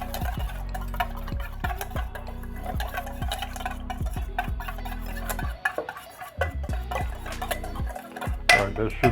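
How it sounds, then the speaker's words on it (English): Rapid, steady clinking of a whisk against a bowl as a dry seasoning mix of powdered ginger and white pepper is stirred, close and fairly loud with short pauses. "we're going to give that a little whisk here and set that aside"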